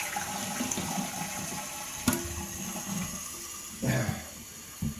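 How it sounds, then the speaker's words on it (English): A toilet with a single long flush, heard as a steady rush of running water that carries on throughout, with a sharp clank early on and a couple of louder gurgling surges near the end. "He's got an extra long flush."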